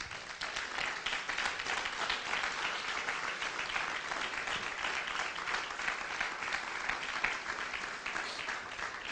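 A church congregation applauds together during a religious class, producing a dense, steady wash of clapping that holds at an even, fairly loud level throughout, with no speech.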